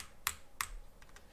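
Computer keyboard keys clack while someone plays the platformer game Celeste: two sharp, close presses, then a couple of softer taps.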